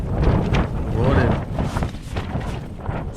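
Strong gusting wind buffets a mountain campsite in the Lake District at dawn, roaring and rumbling continuously up close against the microphone with uneven surges throughout.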